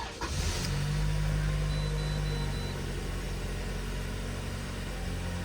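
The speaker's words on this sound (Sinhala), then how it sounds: "ඊට පස්සේ අපිට පුළුවන් මේ විදිහට කාර් ස්ටාර්ට් කරගන්න." A 2020 Toyota Camry engine cranks briefly and catches, then settles into a steady, close idle hum that continues alone without any talk.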